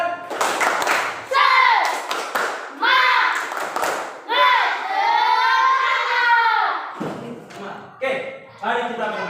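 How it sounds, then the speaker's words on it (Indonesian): In a classroom, students do a tepuk semangat spirit clap, a quick run of rhythmic hand claps mixed with loud chanting children's voices, close and energetic throughout. "Tepuk semangat dulu. Tepuk semangat."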